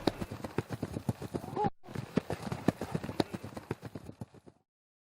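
Horse hooves clip-clop over a riding track at an outdoor equestrian area, steady close rhythmic hoofbeats with a brief gap, fading at the end, with faint background voices.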